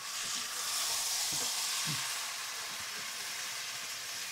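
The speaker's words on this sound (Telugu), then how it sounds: "ఇలాగా బాగా మిక్స్ చేసుకోండి" Marinated chicken pieces, cut very small, are stirred in a pan for Kerala-style chicken masala, giving a steady broadband sizzle with a few soft scraping stir strokes near the start, close and continuous with no talk.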